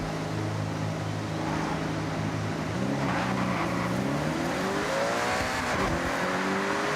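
A BMW M2 engine revs hard in the Forza Horizon racing game, a loud continuous drone that climbs steadily in pitch as the car accelerates, with no talk over it.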